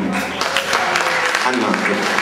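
An audience applauds a songwriter at a live concert in Pescara, with dense, loud clapping under overlapping voices.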